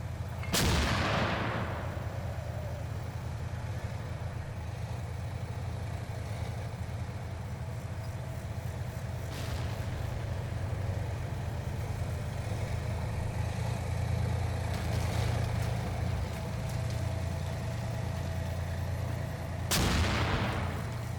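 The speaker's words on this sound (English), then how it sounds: "I figure it can't hurt to lob a few 120mm mortars in their direction" 120mm mortars firing in the Combat Mission: Black Sea war game, heard as a loud close launch thump at the start and another near the end, with further distant impacts scattered across a continuous low rumble.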